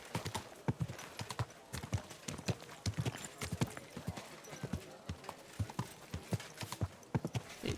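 Horse hooves clip-clopping in the video game Kingdom Come Deliverance 2, a steady rhythmic trot of quiet hoofbeats continuing throughout, with faint speech underneath.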